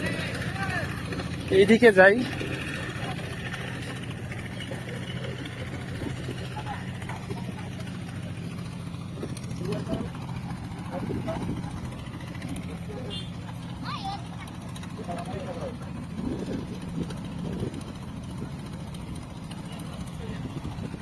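A trawler engine hums low and constantly on the Padma river at Ishwardi, a long steady drone that sits under someone talking briefly.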